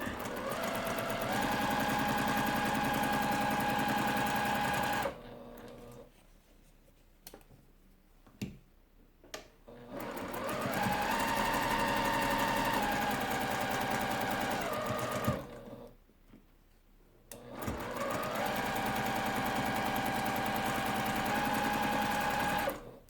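A sewing machine chain-pieces quilt blocks in three long, steady runs of fast stitching, separated by two short quiet pauses with faint handling clicks. The sound is close and fairly loud.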